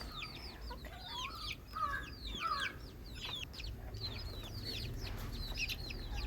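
Chickens cluck steadily inside a coop, kept in because of rain, with several birds overlapping in near, moderately loud calls and brief rising squawks over a constant low background hum.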